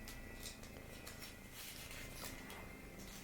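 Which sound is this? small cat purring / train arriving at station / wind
small cat purring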